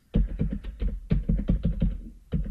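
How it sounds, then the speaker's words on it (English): Computer keyboard keys, arrow keys among them, pressed in a quick run of close, crisp taps, then a short pause and a few more taps, with no talking over them. "I'm just gonna line this up with my arrow keys."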